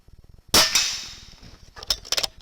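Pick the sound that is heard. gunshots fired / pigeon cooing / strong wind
gunshots fired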